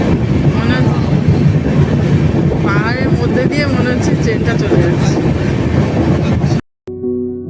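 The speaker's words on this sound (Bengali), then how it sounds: "মহানন্দা ফরেস্ট পার করে ট্রেন চলেছে সেবক স্টেশন ছাড়িয়ে তিস্তা নদীর ওপর দিয়ে" The Kanchan Kanya Express rolls along its rails through the Mahananda forest past Sevoke toward the Teesta river, a loud, steady rumble with faint wheel clatter that stops abruptly near the end; voices are heard faintly within it.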